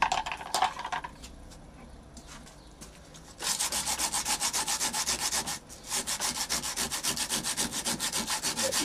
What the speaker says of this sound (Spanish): voy a lijar esto primero